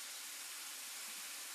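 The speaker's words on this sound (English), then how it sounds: "you should be able to hear that sizzle" Chicken pieces sizzling on a hot grill during a live cooking show, a steady broadband hiss and crackle that stays even and fairly quiet throughout, with no talking.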